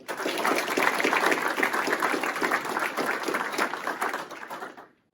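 Attendees at the 2020 Kenosha County Sheriff's Department promotion and awards ceremony applaud a lieutenant's lifesaving actions, with steady crowd clapping that holds strong for about four seconds before tapering off and stopping.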